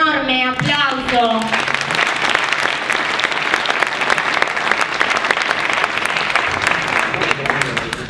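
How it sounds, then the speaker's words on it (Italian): An audience at a wine award ceremony for Marche producers applauds loudly and continuously, a thick wash of many hands clapping throughout, with a voice heard briefly at the start. "Chiusa la premiazione della provincia di Ancona, a cui farei un enorme applauso."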